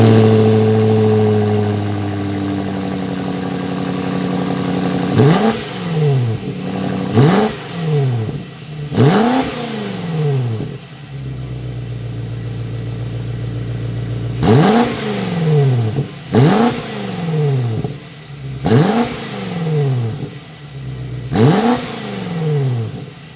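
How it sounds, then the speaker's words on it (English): A 2021 BMW X6 M Competition's engine is revved while parked, with a steady idle broken by repeated sharp throttle blips that rise and fall, two bursts of several revs each separated by a brief settle, loud and close with no talking. "Let's go inside, start this thing, and give it some revs."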